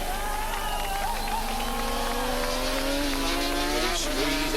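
A race car at the 1986 Swann Series touring car race at Calder Park drives past. The engine note climbs steadily as the throttle opens, with the howl rising in pitch and easing slightly near the end, heard from a distance.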